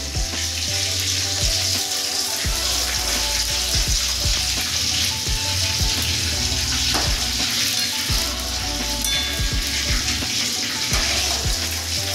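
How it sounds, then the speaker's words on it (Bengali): Pieces of Bengali aar fish frying in hot oil for a spicy oil curry, with a steady loud sizzle and crackle throughout and occasional clinks and stirring taps of a spatula. "মাছগুলো লাল লাল করে ভেজে নেব সবগুলো"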